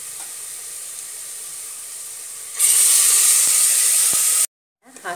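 Masala paste frying in a hot pan for kushka rice, a loud steady sizzle that swells sharply partway through, then cuts off abruptly, with no talking.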